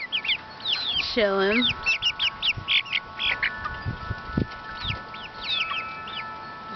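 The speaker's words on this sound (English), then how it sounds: "I think we've heard some clucks recently." Chickens in their coop cluck in scattered bursts, with a rooster-like drawn call early on, close and fairly clear; a person says a brief word softly underneath.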